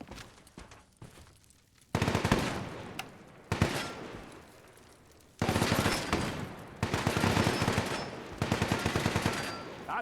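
Bursts of enemy gunfire in Fallout 4, loud rapid automatic volleys in several long stretches separated by short quieter gaps, with no talk over them.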